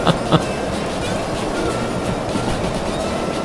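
A steam train labours steadily along its rails as a constant loud rumble and hiss, with a couple of sharp clanks near the start and no voices.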